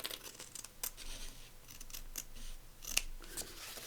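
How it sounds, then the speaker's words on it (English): Scissors trimming fabric for a sewn journal page, a series of crisp close snips at a slow uneven pace, quiet and with no talking. "I'm just going to trim the back off so I know where to stop when I'm sewing."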